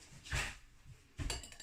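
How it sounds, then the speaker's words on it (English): A spoon clinks and scrapes inside a glass of water as salt is stirred in, two brief quiet bursts of stirring separated by a short pause, with no speech. "So we're going to put a little of this into here. Mix, mix, mix, mix. And we'll give it a stir."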